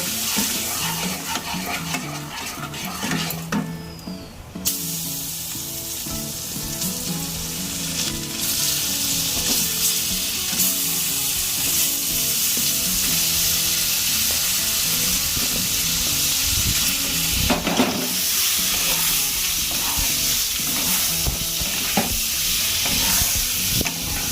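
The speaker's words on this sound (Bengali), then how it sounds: "ভালো করে ভেজে নেব।" Paneer cubes fry in a pan for paneer butter masala, a loud continuous sizzle with scraping stirs of a spatula and occasional clinks against the pan.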